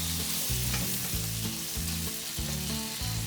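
Potatoes sizzle steadily in a hot pan as a Spanish-style potato hash brown pancake crisps on the bottom, a dense continuous crackle with recurring low thumps, close and loud throughout.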